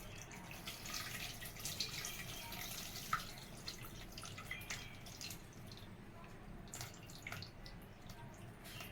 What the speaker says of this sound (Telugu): మనం ఇప్పుడు చింతపండు పులుసు పోసుకుందామండి